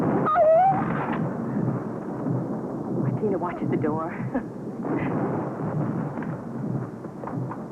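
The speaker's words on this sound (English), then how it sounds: "They don't hear the thunder." Thunder rumbles deep and heavy during a storm in a 1956 film drama, rolling beneath a woman's and children's voices talking throughout.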